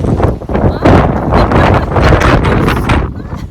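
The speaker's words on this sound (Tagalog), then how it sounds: "Sobrang lakas talaga ng hangin ngayon." Loud, gusty wind buffets the microphone in heavy roaring bursts, with muffled voices partly audible underneath.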